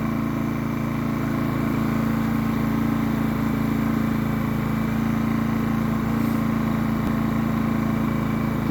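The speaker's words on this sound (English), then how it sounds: "What a nice, smooth running little generator." A Pulsar PGD16ISCO 1200W micro generator runs with a steady, smooth engine drone, holding an even, constant hum at close range throughout with no change in pace.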